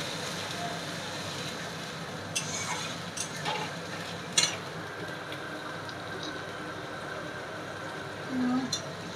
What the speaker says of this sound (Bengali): আধা চামচ লবণ, হলুদের গুঁড়া দিয়ে মশলাটা কষিয়ে নেব